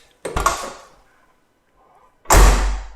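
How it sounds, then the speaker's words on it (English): The door of a 1983 Porsche 944 slams shut twice: a sharp first thud with a short rattle, a quiet pause, then a second, heavier close, loud and near. "just listen to the way this door closes"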